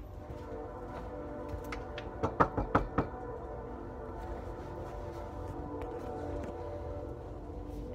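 A quick series of about five sharp knocks on a door, close and distinct, rising briefly above a steady low background hum with no one speaking.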